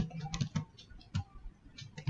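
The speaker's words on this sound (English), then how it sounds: "I'm typing" Typing on a computer keyboard while entering an email address to sign up for a Microsoft Azure account: soft, quick key clicks in an uneven rhythm, close and fairly quiet.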